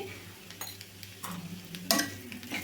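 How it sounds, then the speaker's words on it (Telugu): A spoon stirring bitter gourd and onion masala with turmeric and tamarind in a pan, close soft scraping strokes with light clicks and a faint sizzle beneath; no talk. "ఇట్లా మొత్తాన్ని ఒకసారి కలుపుకొని"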